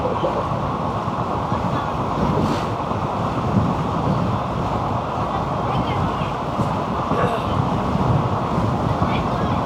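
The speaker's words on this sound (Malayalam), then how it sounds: "എനിക്ക് നമ്മുടെ കടലിനോട് അടുത്തായതുകൊണ്ട് ഭയങ്കര കാറ്റാണ് ഇവിടെ." Steady, strong coastal wind rushes without a break near the sea along the Gujarat coast between Okha and Dwarka, a loud continuous roar with a voice talking over it.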